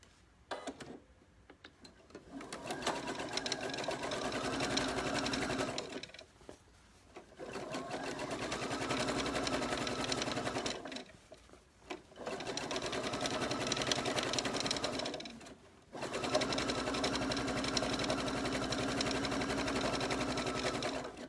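A sewing machine stitches a row on a children's t-shirt dress in four long, steady whirring runs, each broken by short pauses. Nearby and loud, with no speech.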